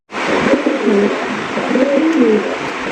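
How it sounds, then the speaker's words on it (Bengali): A pair of Black King pigeons coo softly and repeatedly at close range, a rolling, throaty call filling the whole stretch with no other sounds. "এইটা হচ্ছে মাদি, ওইটা হচ্ছে নর কবুতর।"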